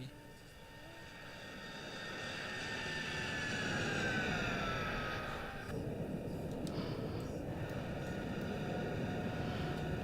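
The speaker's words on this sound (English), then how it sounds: "It's quite a nice takeoff." Boeing 787 taking off in a flight simulator game, a steady jet engine roar that swells and then levels off, with a rising tone sweeping through it and a few faint clicks near the end, and no talk.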